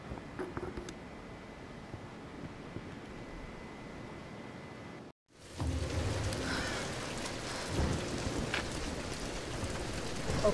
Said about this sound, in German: Wir nähern uns dem Sturm.